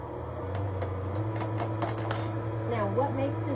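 An electric mixer runs in oatmeal cake batter with a steady low motor hum, its whir shifting slightly as the beaters churn, while people talk over it.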